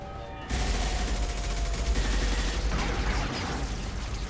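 Gunfire in Mass Effect 2 bursts in abruptly after a brief quieter moment, then continues as a dense, loud, steady barrage of shots, with no voices over it.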